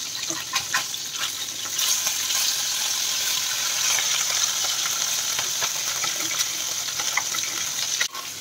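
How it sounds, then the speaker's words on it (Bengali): Small morala fish fry in oil, a bright, steady crackling sizzle with scattered pops and spits, close and fairly loud, running throughout with a brief clatter near the end. "মাছ ভাজাটা হয়ে গেছে"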